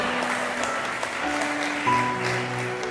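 Audience at a talent show elimination round applauding, clapping spread across the room over held musical tones that swell slightly toward the end.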